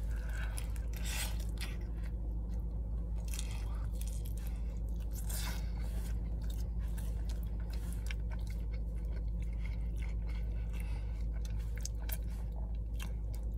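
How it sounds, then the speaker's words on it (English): Close-up chewing and biting of pizza inside a parked car, wet crunchy mouth sounds repeating irregularly over a steady low engine-like rumble. "Watching me slurp down pizza is probably gross."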